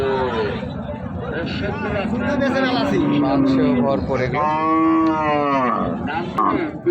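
Haryana breed bullocks at a cattle market moo loudly nearby, two long drawn-out calls, with someone talking over them and crowd chatter in the background.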